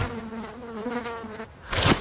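A fly buzzes close by with a thin, wavering drone for about a second and a half before a brief clatter cuts in.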